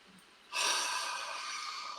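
A single long, deep inhalation drawn in close to the microphone, starting after a brief quiet moment and holding as a steady airy rush until the end.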